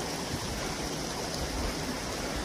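A river rushes past a house in Kharboo village, Drass, Ladakh, a steady broadband stream of water that stays even and continuous throughout, close and unbroken with no voices.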